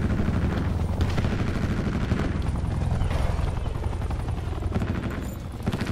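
An attack helicopter's rotor thumps beneath bursts of rapid gunfire in Call of Duty: Black Ops 4, a loud, continuous battle din with no voices.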